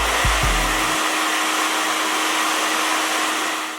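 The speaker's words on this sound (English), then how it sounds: "So you just grab our blow dryer and you just stick it on the other end here" A blow dryer fitted into a soft hood dryer runs in a steady, loud whir after a couple of brief clicks at the start, holding an even airy roar until it fades slightly at the end.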